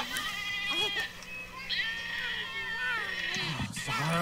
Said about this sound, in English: These are goats.